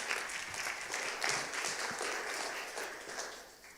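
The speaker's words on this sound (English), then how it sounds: "Can we show our applause for Ellen once more?" Conference audience applause fills the hall, a dense, steady patter of many hands clapping at a moderate distance before tapering off at the end.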